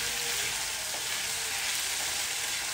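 Potatoes frying in a pan, a dense, even hiss of sizzling oil held at steady loudness, close up with no talk.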